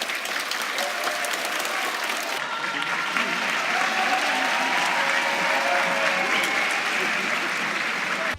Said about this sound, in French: Au festival Premier Plan, le public aime applaudir.